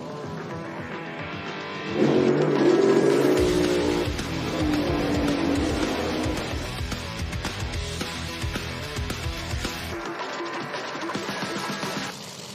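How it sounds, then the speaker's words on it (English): Top Fuel dragster drag race, a loud sustained engine roar that swells sharply then holds a harsh, distant-sounding drone with tire and skid noise, no talk. "Pretty good drag race going on out here, Dave."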